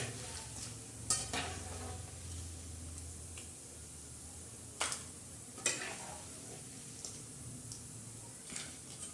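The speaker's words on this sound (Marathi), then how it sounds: "त्या कुडाया अशा तळल्या जातात" Kudaya fry quietly in hot oil with a soft, continuous sizzle, broken now and then by sharp clinks and taps of a utensil against the pan.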